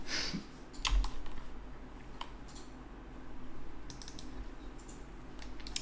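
Computer keyboard keys are tapped during jewelry modeling work, a few scattered clicks followed by a short burst of typing and a firmer key press, close and fairly quiet over a faint fan hum.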